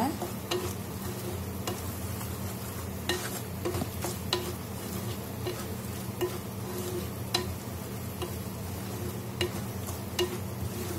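Ground spices including chili powder, coriander powder, turmeric, garam masala and pepper sauté in a pan over a low flame, giving a steady soft sizzle with occasional light stirring scrapes throughout, with no voices.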